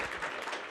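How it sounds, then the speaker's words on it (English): An audience at a 1 Million Cups event in Kansas City gives a short burst of applause, clapping evenly for a moment. "Quick round of applause."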